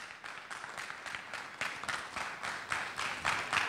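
Rhythmic audience applause at a festival for Solo and Diamond, a steady pulsing clap-along from a crowd, fairly close and unbroken by talk.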